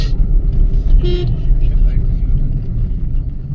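A short car horn toot sounds amid steady road and engine rumble on a highway between Vijayawada and Ranga Reddy district, with a person speaking close by.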